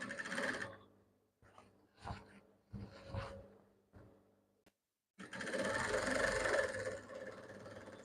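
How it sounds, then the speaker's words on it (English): A sewing machine stitching kimono cloth runs in short separate bursts, then settles into a longer, louder continuous whirring run, close and clear. "So I'll just continue to stitch it that way."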